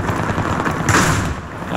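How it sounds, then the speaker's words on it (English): Gunfire in Battlefield 3 on the Ziba Tower map, a dense rattle of rapid shots and bursts, loud and close throughout. "I hear gunshots."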